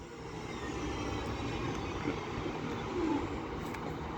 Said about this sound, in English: now getting ready to depart is the delayed 11:37 East Midlands Railway service to Crewe